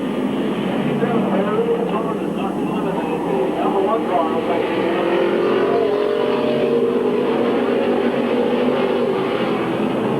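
Stock race cars roar around Midvale Speedway in 1997, a dense, continuous engine drone from the pack with a commentator talking over it.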